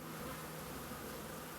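Honey bees buzz as a steady, dense drone at a village apiary in Kyrgyzstan, a continuous swarm hum with no voices.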